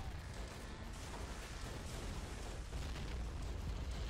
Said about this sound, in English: I called in some artillery too.